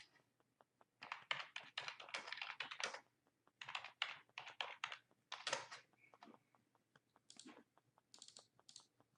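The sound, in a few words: typing text on a computer keyboard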